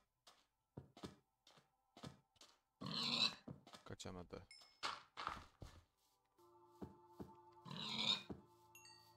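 Short, gruff pig grunts from Minecraft with the Better Than Wolves mod come in scattered bursts, mixed with game sounds and a quiet voice speaking.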